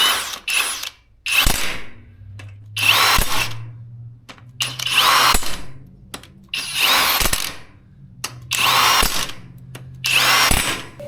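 An impact wrench hammers transmission bolts tight during a 4L60E swap on a turbo LS, firing in about eight loud, close rattling bursts separated by short pauses, with a faint low hum between them.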